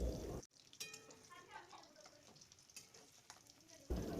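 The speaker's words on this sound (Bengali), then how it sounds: "মাছটা খুব ভালো করে ভাজা হয়ে গেছে" Fish sizzles and crackles as it fries in oil in a pan for a village-style curry, a quiet steady frying hiss with a few sharper pops and a stir, bracketed by brief louder handling noise.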